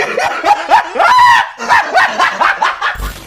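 A dog barks and yips repeatedly in quick, excited bursts, loud and close, with a short whimpering stretch in the middle and no talking.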